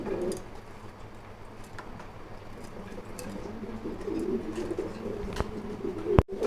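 A pigeon at a pigeon farm gives soft, low, repeated cooing, faint and steady against quiet background noise, with a sharp click near the end.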